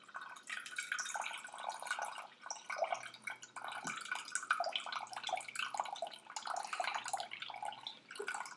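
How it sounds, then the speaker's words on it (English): Liquid mixture dripping through a cloth rag into a bowl, a busy steady patter of drops and trickling water that continues through the whole stretch at moderate level. "Make sure to keep it dripping so you get all the water out."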